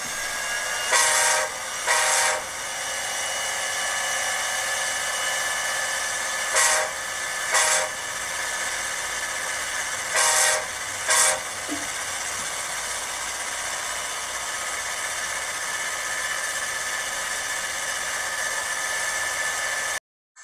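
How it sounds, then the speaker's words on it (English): A steady rumble of a moving train fills the whole stretch, with several short bursts of a horn-like tone sounding in pairs over the constant rolling noise. "But check out this train ride."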